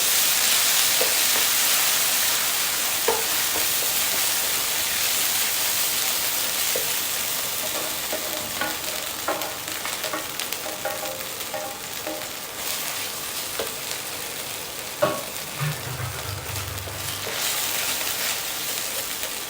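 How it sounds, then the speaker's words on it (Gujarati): Grated sweet corn roasts in a pan of hot oil tempered with curry leaves, giving a continuous soft sizzle with occasional light clinks and a brief scrape of stirring. "આ મકાઈને એકાદ મિનિટ માટે શેકી લેવાની છે"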